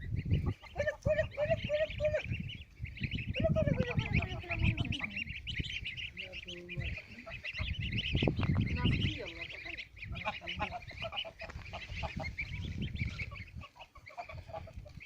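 Many goslings peep and chirp continuously nearby, high thin calls repeating in uneven bursts over soft background noise, with a person talking at times among them.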